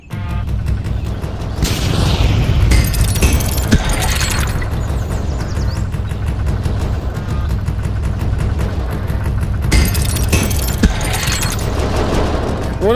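Bombs from a wooden crate blowing up in the VRChat game Super Tower Defense, heavy rumbling bursts and clattering crashes that fill the whole stretch loudly, with louder blasts at intervals.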